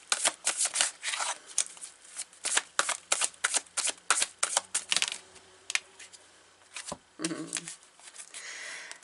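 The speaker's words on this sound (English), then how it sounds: "So let's pull a few more cards in this deck." A deck of tarot cards being shuffled close up: rapid, crisp riffling bursts in an uneven rhythm, pausing briefly before a final rustle of cards.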